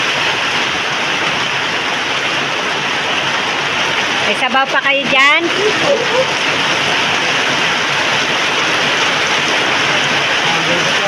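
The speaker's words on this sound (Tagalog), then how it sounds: "Umulan na naman. Lakas ng ulan." Steady heavy rain pours down in a broadband, unbroken wash throughout, with a brief burst of talk near the middle.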